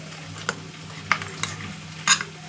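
A small spoon stirring a spice paste mixed with sugar in a cooking pan, giving occasional sharp clinks and scrapes against the metal over a steady low background hum.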